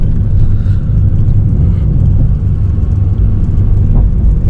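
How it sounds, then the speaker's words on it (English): A Porsche 987.1 Cayman with Tiptronic transmission cruises on light throttle, its engine giving off a loud, steady low drone and rumble inside the cabin with no rise in revs. "As you can see right now, we're just cruising. We're not even using full throttle."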